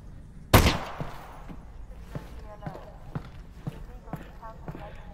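A single sharp gunshot in the VR game Half-Life: Alyx, loud and close, followed by a series of soft rhythmic thuds and quiet clatter as someone talks.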